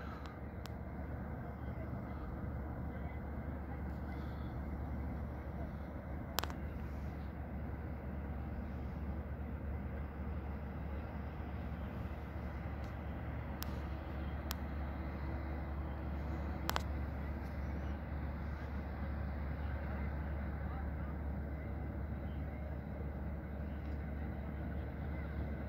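The boat Húni II EA runs its engine on calm water at the Pollurinn harbour in Akureyri, a faint, steady low drone continuing throughout with a few soft clicks and distant knocks.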